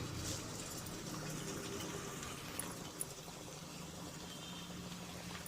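Samosas sizzle and bubble in hot coconut oil, a steady dense frying hiss with faint crackles running throughout, close and even in level.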